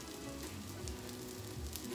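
Vegan black bean burger patties sizzle in a hot skillet, a constant close crackle and hiss with occasional louder pops, steady throughout and with no talking.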